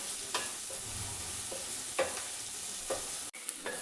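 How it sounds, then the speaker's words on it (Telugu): Onions fry in a pan for a prawn curry with a continuous low sizzle, broken by several distinct stirring scrapes and a sharp clank near the end, all close and without talk. "ఆనియన్ అయితే మనకి ఫ్రై అవుతుంది ఆల్మోస్ట్."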